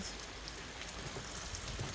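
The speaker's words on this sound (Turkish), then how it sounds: "Yağmur yağıyor maalesef." Steady rain falls outside near a garage on a rainy day, a constant soft hiss with scattered drops tapping nearby surfaces, continuous and moderately quiet, with no talking.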